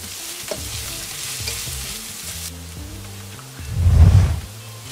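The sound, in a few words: sautéing minced ginger in a pan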